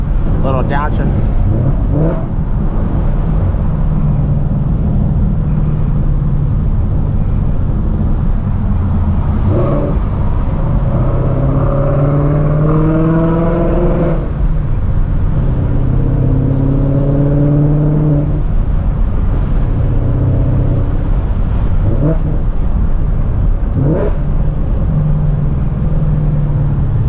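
A Ford Mustang engine revs and downshifts on the road, with its note climbing in repeated rising pulls and then dropping between gears, heard close from inside the car over steady road noise.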